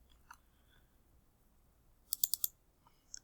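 Typing on a computer keyboard while writing code: a few sparse clicks, then a quick burst of four sharp keystrokes, close and quiet in a still room.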